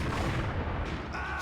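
Gunfire in the PC shooter Max Payne, a dense continuous barrage of booming shots with heavy low rumble, loud and close throughout, no talking.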